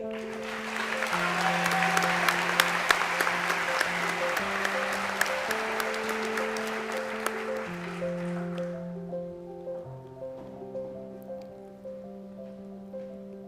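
At a medical school white coat ceremony, the audience applauds the class of 2026 in a thick, rain-like wash of clapping over steady background music, fading out after about nine seconds and leaving the music alone.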